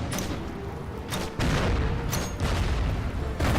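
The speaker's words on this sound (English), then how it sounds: "Some mortar fire." Artillery and mortar fire in the wartime strategy game Order of Battle, set at Sevastopol: several heavy booms and bursts of gunfire arrive in irregular clusters, loud and rumbling over a constant battle din.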